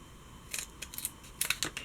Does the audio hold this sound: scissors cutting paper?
yes